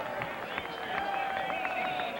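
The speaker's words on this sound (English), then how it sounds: "PATs don't get that much applause around the league. They do here." Stadium crowd at an NFL football game in New England applauding a point-after kick, a steady broad roar of cheering and clapping, with a commentator talking over it.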